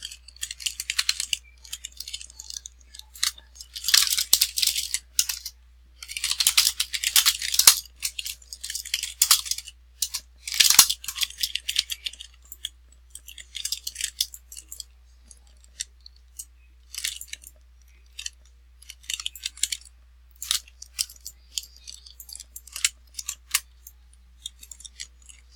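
Keystrokes on a PC keyboard in the background during a Roblox game session, an irregular clatter of fast taps and bursts coming and going, fairly faint and without speech.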